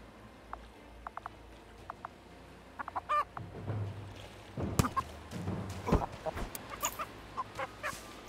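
Chicken clucking in the survival video game BreakWaters, a series of short clucks and squawks scattered over a steady ambient game background with other brief effects, moderately loud and with no talking.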